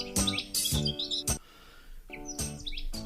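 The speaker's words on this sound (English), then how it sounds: "today's featured feathered friend, Lawrence's goldfinch." Lawrence's goldfinch singing nearby: several bright, rapid bursts of twittering song separated by a short quiet gap, clear and fairly loud with no voices.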